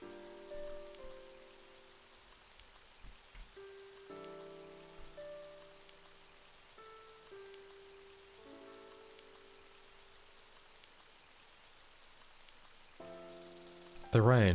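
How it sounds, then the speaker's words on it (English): Soft, steady rainfall in the video game The Village Demon patters quietly beneath gentle melodic music notes, with a sharper burst of sound right at the end. "I've never been so happy to see it raining."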